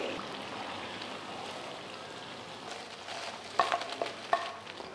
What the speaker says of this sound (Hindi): तो ये देखें, तो ये यहाँ पे फ्राई हो रहे हैं।